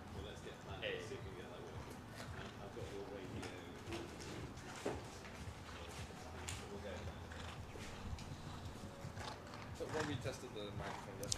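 Hoofbeats of Elite Chin de Solieu, a 12-year-old mare by Cassini, in a 2-star Grand Prix show jumping round, thudding steadily through a busy arena with crowd noise and an announcer talking throughout.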